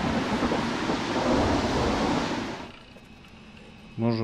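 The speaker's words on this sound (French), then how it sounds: "Ok, donc revoilà la tempête." A storm in Gas Station Simulator roars with heavy rain and rolling thunder for about two and a half seconds, then fades out abruptly, followed by a short tonal chime.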